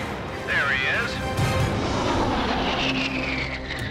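An aerobatic airplane engine roars at an airshow, pitch rising and falling as it maneuvers, loud and close, with a voice speaking over it.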